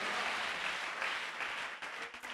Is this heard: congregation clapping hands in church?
yes